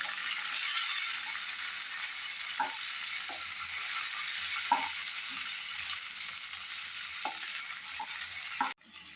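Two small onions are sautéed in a pan for Karnataka-style bisi bele bath, producing a constant soft sizzle with occasional light clicks of stirring, ending in a sharp knock; no voices.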